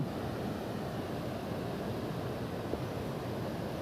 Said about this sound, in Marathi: हे बघा उखुलचा धबधबा